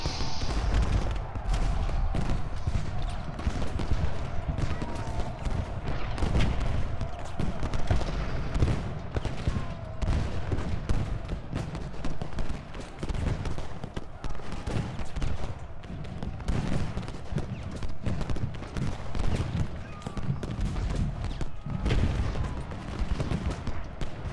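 Dense, continuous battlefield gunfire and booming artillery from a Civil War strategy game, heavy volleys and thuds layered densely throughout with no pauses.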